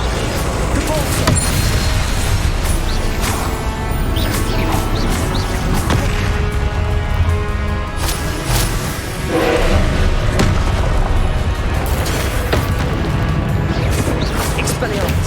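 Convulso spell blasts in the Hogwarts Legacy video game: a dense run of booming thuds and crashing bursts over steady loud game noise, with speech and shouting running through it.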